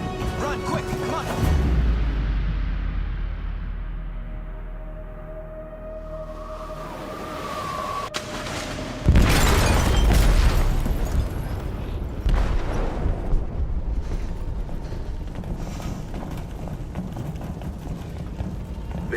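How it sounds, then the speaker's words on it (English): A heavy, deep boom from an explosive detonated in a ship's hold in Detroit: Become Human, swelling into a loud rumble with debris and crashing noise, amid tense ambient sound. "They detonated an explosive in the hold."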